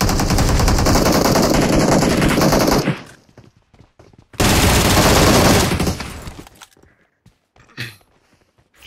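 Loud, rapid automatic gunfire in the mobile battle-royale game PUBG Mobile, two long sustained bursts separated by a short pause, followed by scattered single shots and quieter game sounds.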